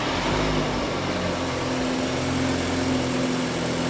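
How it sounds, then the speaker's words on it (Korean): A BMW 320i Touring's engine idles steadily nearby, a continuous low mechanical hum with faint higher whirring and no speech over it. "시동 한번 걸어봐봐"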